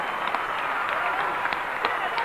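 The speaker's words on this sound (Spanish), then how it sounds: "Quiero que aplaudan todos, todos, todos." An audience at a live concert applauds, a dense, steady wash of clapping with scattered sharper claps standing out throughout.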